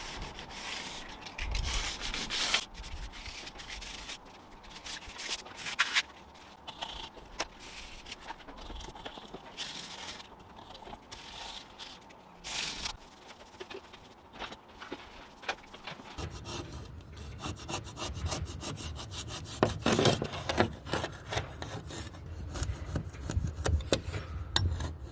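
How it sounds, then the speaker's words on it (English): Hand sanding of a window frame with sandpaper, close rasping strokes that repeat in irregular bursts and turn faster and denser toward the end, with no voices. "And when you're sanding up against it, try not to scratch the glass, or don't scratch the glass, so don't run your sandpaper on the glass."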